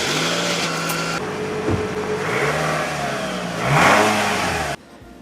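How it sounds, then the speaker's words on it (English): A car engine revs hard and accelerates close by, its pitch rising in a few surges before cutting off sharply near the end. "Then I gassed up because I had to drive near and far."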